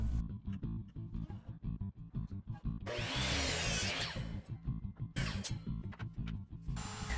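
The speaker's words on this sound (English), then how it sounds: "I set up a stop block on the miter saw and I cut a bunch of mitered pieces" A miter saw set against a stop block cuts mitered wood pieces for storage boxes, giving two loud, sustained high whining cuts amid background shop noise and clatter.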